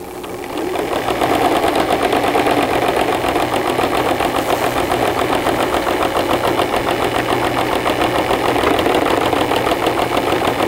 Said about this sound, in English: And I'm just going to sew right over top of that seam.